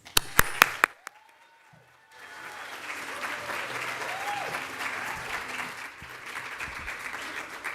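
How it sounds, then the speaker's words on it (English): An audience at a theatre season launch bursts into sustained applause and cheering that swells and holds for several seconds, after a few sharp claps and a short quiet gap at the start. "I encourage the cheering and the clapping"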